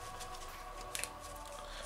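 A deck of playing cards dusted with fanning powder is faro-shuffled, its two halves meshing in one quick, crisp riffle near the middle of an otherwise quiet stretch.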